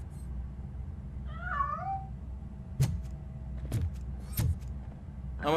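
A cat in RoboCop: Rogue City meows once, a short wavering call over a steady low hum, followed by a few soft thuds and clicks nearby.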